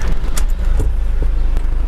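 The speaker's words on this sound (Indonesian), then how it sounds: "Kemudian kita akan menyalakan kendaraan" A car, fitted with an aftermarket audio system, is switched on: a steady low engine rumble runs throughout, with a few brief clicks and knocks over the top and no talking.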